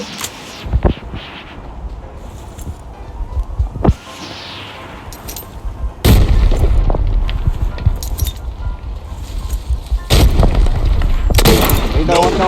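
Sharp bursts and heavy grenade booms in the video game Arena Breakout cut through excited talking, with a couple of loud explosions and clinking debris amid the chatter.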